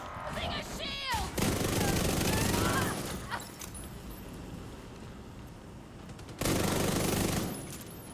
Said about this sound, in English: I'm gonna shoot you now!